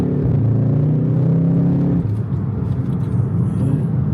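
A Volkswagen Golf R with 300 brake horsepower driving, its engine a steady close rumble that drops in pitch midway as the car shifts or eases off, heard alone without talk.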